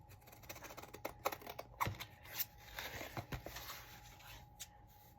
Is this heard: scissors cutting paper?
yes